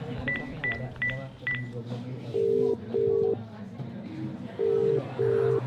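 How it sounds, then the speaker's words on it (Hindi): Telephone number dialed on a keypad: four quick touch-tone beeps in a row, then two pairs of longer tones, with a soft voice murmuring beneath. "ाहुल को फोन कर एंड पूछ कि वो कहाँ है अभी"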